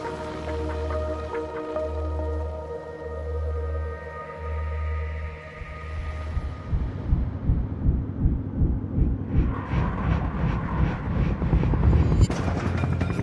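The Westpac rescue helicopter at its Newcastle base on an emergency mission, with a low rhythmic rotor thump that builds into a dense, loud whirring roar, mixed with tonal background music.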